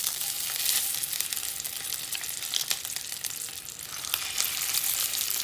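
Fish sizzles and crackles in hot oil, a dense continuous frying hiss with scattered pops, close up and without speech.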